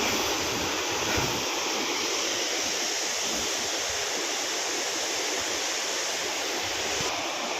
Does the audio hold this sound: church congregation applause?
no